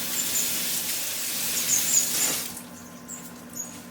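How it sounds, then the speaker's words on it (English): Running water rinses finch seed held in a strainer, a steady soft hiss of tap flow that eases off partway through, with faint squeaky tones over it and no talking. "Put it in a strainer. rinse it off."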